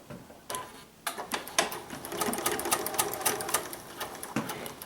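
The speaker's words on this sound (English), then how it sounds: "I'm just going to put that underneath my presser foot and sew it together with a little stitch line." A BERNINA 880 sewing machine stitches a zipper in rapid, even bursts of ticking needle strokes, starting and stopping a few times at close range.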